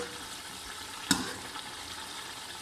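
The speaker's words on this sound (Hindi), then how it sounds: "अब इसे हम कुछ देर और पका लेंगे ऐसे ही खुला छोड़कर।" Tomato keema sizzling in an open pan, a quiet, steady frying hiss broken once by a single sharp clink.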